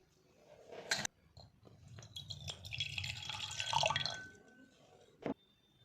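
Water trickles and drips into a container with light clinks, a steady pouring sound building for a few seconds before stopping, close and fairly quiet.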